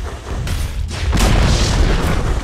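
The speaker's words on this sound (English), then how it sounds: "Dire's top tower has fallen" A tower being destroyed in a Dota 2 match lets out a loud booming explosion, with a short burst followed by a bigger rumbling blast that swells and lingers.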